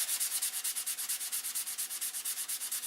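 Hand sanding of a single primer coat on an airplane wing with 320-grit paper, a steady rhythmic rasp of about eight quick back-and-forth strokes per second, close and dry, with no voices.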